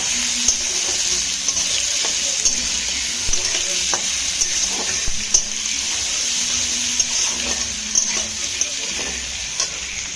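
Steady oily sizzling of onions frying in a pan with whole garam masala, dried chillies and bay leaves, with occasional soft stirring scrapes, close and continuous with no voices.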